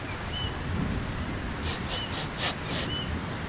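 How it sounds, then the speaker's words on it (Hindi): Steady rain hisses throughout, with a few brighter bursts of spatter near the end; no talking. "अभी तो बाहर बहुत तेज बारिश शुरू है"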